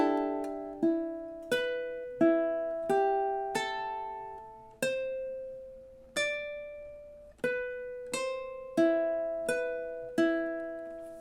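Slow ukulele rendition of the Exorcist theme: single plucked notes ring out one after another in an even, unhurried rhythm, close and clear with no talking.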